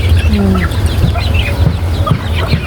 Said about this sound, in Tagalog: Meron ako ditong manok guys, merong bibi at pato.